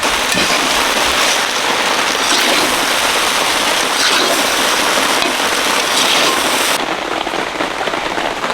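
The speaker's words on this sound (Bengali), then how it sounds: "পাস্তা হয়ে গেছে ঢেলে দিচ্ছি একদম ঝুরঝিরা হয়ে যাবে" Boiled pasta is poured out of a pot: a continuous, rushing splash of water that holds steady for about seven seconds, then thins out and stops, with no talking.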